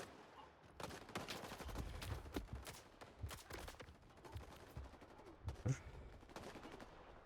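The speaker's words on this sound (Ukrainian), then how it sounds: "А тут вже перестрілка." Rapid bursts of gunfire in the video game S.T.A.L.K.E.R. 2 crackle and pop in irregular volleys, with a few louder single shots standing out; dense and continuous, no clear speech.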